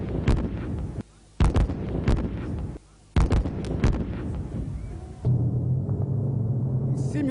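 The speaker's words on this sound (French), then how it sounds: "Et là, ce sont des tirs réels et ça va faire beaucoup de bruit." Live artillery and bazooka fire during a Malian army commando training exercise, several loud booming blasts in irregular succession with short gaps, followed by a lower sustained rumble.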